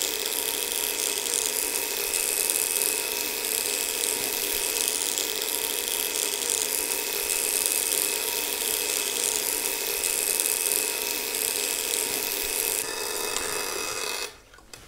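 A violet ray electrotherapy device runs with a steady, loud electrical buzz and crackle that holds for about thirteen seconds, then cuts off abruptly near the end.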